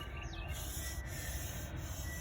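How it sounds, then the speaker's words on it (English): Steady hand sanding of the grille on a 1999 first-generation Toyota Tacoma, a continuous dry rasping rub across a surface, close and fairly even throughout with no talking. "I did a lot of sanding"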